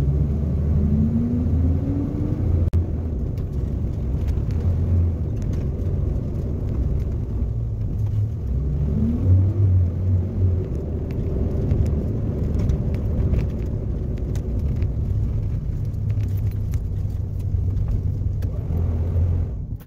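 A 1964 Chevrolet Corvair's engine rumbles steadily as the car drives along, with a low drone and occasional rising whine as it shifts, continuous throughout.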